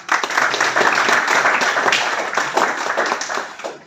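Audience applause at a property presentation, a burst of dense, close hand clapping that carries on for a few seconds before thinning out.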